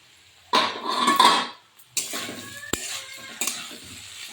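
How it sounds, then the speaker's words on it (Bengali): Boiled long-grain rice being strained from a pot for vegetable fried rice, with bursts of metal pot and utensil clatter and the rush of water and grains, loud and close, in three separate pours with quiet gaps. "এবার আমি ভাতটা ছেঁকে নেব।"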